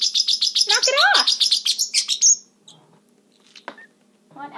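A parrotlet chirps in quick repeated bursts, bright and close, with a fast rhythmic run of tweets that ends in a sliding squawk before fading into quieter scattered chirps.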